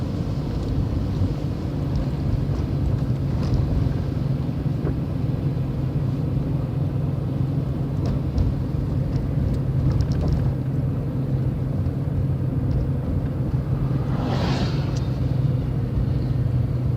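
Clean car driving through melting slush on a road, a steady low rumble of tires and engine with a constant wet road hiss, continuous and fairly close, without talk.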